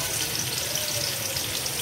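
One medium-sized onion fries in hot oil in a pot for matar pulao, giving a steady, fairly loud sizzle that holds evenly throughout.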